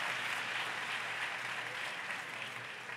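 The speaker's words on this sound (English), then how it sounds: "Let's give everybody a round of applause again." Audience applause fills a senior women's pageant hall, a steady dense clapping that continues throughout without a break, loud and close with no talking over it.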